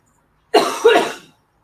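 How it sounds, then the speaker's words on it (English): A single harsh cough in two quick bursts, close and loud, followed by silence. "I have not coughed so much in one day in years."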